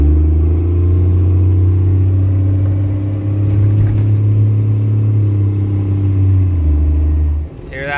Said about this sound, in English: So we're just gonna casually accelerate.